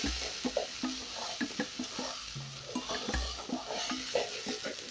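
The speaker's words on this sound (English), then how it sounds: "Then I'm going to blend in, and you can already see our rice is already turning color." A spoon stirs carrot rice seasoned with salt in a sizzling pan, scraping and clinking in quick irregular strokes over a constant frying hiss, close and moderately quiet.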